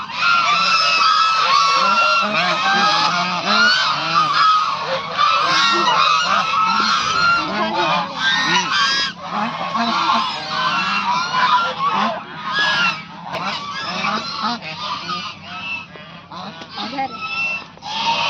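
Many geese or ducks honking in a dense, continuous chorus at a park, loud and close throughout, with scattered voices faintly mixed underneath.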